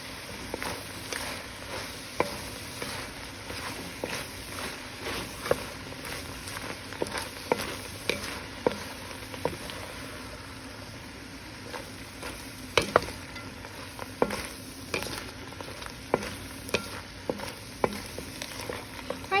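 Onions being stirred in a pot for French onion soup, a steady soft scraping and shuffling with light sizzle underneath and small clicks of the utensil against the pot, close and continuous.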